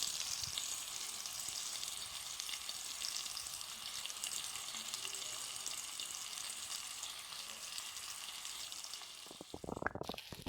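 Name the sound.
prawns with raw black pepper frying in pan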